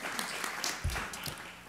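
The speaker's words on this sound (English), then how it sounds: "so a big round of applause for the speakers" An audience at a Generation Change community gathering claps for the speakers, a brief, soft, steady patter of applause heard from a distance.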